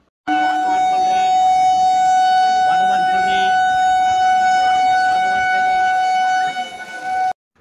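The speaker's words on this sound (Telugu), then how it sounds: "10 నిమిషాల పాటు ట్రైన్ హార్న్ అయితే మోగించిన తర్వాత ఈ ట్రైన్ అయితే మెల్లగా మూవ్ అయింది" The Krishna Express horn gives one long, loud, unbroken blast of about seven seconds at a steady pitch, ending abruptly, with faint background murmur beneath it.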